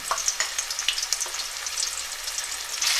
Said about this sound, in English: I'll give it a quick fry